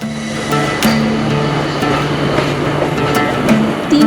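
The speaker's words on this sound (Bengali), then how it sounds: "আসানসোল থেকে আদ্রা যাওয়ার ট্রেনটি ছাড়লো কিন্তু এক্স্যাক্ট টাইমে" A local train on the Asansol to Adra line pulls out of a station, making a steady, loud rumble with a sustained low tonal whine that rises near the end.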